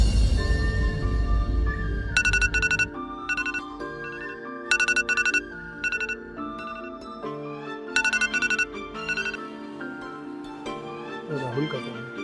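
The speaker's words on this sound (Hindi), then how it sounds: "राहुल का फोन।" A phone ringtone plays a repeating electronic melody in bursts, moderately loud and nearby, with a low rumble at the start.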